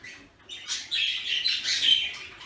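Budgies chirping in an aviary bird room, a dense, continuous chatter of high twittering calls from many birds close by, rising in intensity after the first second with no talk.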